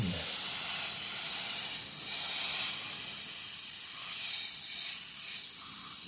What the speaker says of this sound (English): Now I'm just going to mist it right here